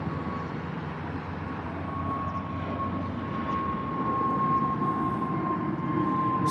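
British Airways jet in Better World livery departing Heathrow, a steady engine roar with a sustained whine that swells slightly toward the end, heard at moderate distance without any talking.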